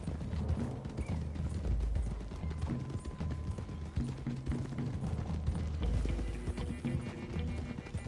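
Horses gallop in Red Dead Redemption 2, with a steady, dense clip-clop of many hooves running together, loud and continuous throughout, joined by occasional whinnies and rattling gear.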